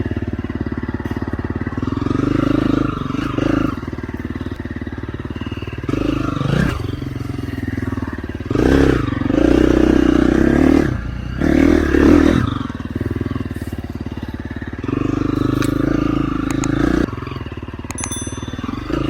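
Motorcycle engine revving repeatedly in surges during a clutch test, loud and close with mechanical clatter between the throttle blips.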